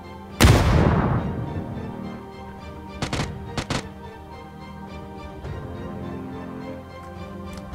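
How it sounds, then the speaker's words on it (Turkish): A bomb blast in a video game hits loud and close, a deep booming burst that rolls off over about a second, followed a couple of seconds later by several short sharp knocks, then a low steady background hum. "Bomba attı."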